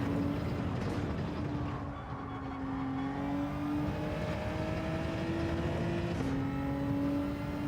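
A race car circles the Red Bull Ring in Gran Turismo 7, its engine a steady, moderately loud tone that sweeps up through the gears and dips briefly under braking before climbing again, with no talk.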